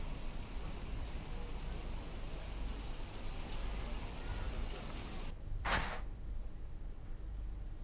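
Heavy rain near a national highway in Ramnagar, Uttarakhand, a dense, continuous loud hiss of falling water with a brief sharp crack partway through.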